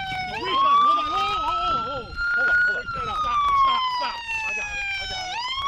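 A police car siren wails close and loud, sweeping up and down continuously, with voices talking over it.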